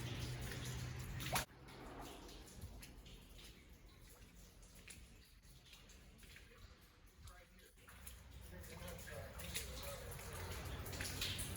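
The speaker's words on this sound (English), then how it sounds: "there's like a weird tunnel thing that brings water that's coming from above" Water flowing and dripping down from a tunnel above a creek, a faint continuous trickle with scattered drips and a sharp knock near the start, quiet and even throughout.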